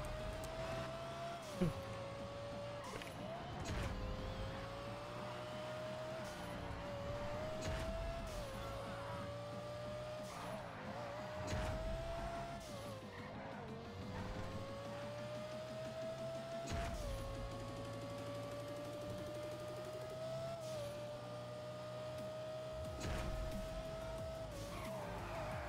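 A car in a racing video game drifts with a strained engine whine that rises and dips as it revs, with tires repeatedly sliding and squealing and occasional sharp knocks, steady and fairly faint throughout.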